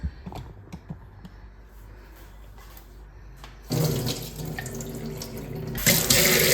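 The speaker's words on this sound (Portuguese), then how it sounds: "Eu vou escorrer essa água do quibe agora." Water drains from kibe, a ground-meat and bulgur mixture, into a kitchen sink: quiet clicks and taps give way to a louder, steady rush of water that swells again near the end.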